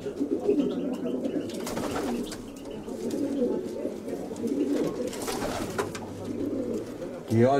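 Pigeons coo repeatedly through the scene, the soft rolling calls fairly close and steady, with a few brief louder broadband noises and some background activity.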